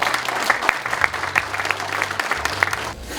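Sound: applause welcoming the team manager

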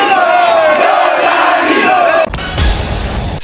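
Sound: crowd celebrating Tshisekedi's victory in Lualaba

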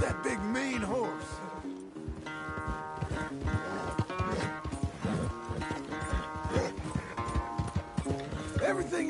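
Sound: horse galloping hooves in Red Dead 2 video game

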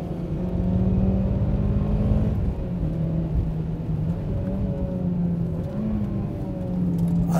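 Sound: Mitsubishi Evo car driving fast on track

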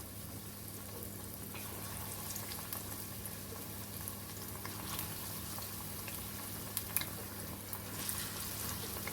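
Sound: green chillies frying in hot oil

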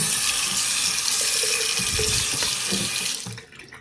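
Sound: water running from a bathroom sink faucet

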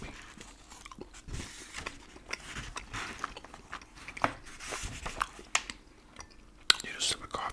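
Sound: chewing licorice allsorts

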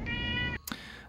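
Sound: cat meowing at the door

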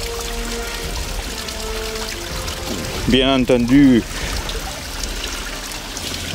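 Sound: water pumped from a hose splashing in an aviary

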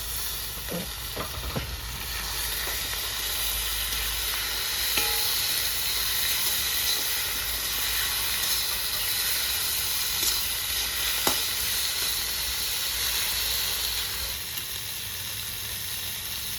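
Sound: ginger garlic chili paste and tomatoes sizzling in pan

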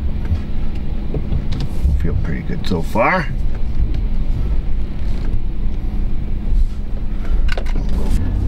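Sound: GMC Sierra pickup truck driving

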